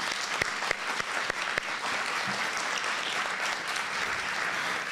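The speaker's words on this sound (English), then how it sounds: "let's give another round of applause to our musicians" Dinner-theater audience applauds the musicians, a dense, even wash of clapping from many people that holds steady for the whole stretch.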